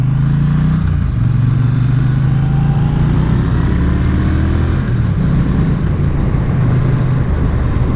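A car on a California road trip from San Francisco to Groveland pulls away and keeps driving, its engine hum and road noise loud and steady throughout, with no talk.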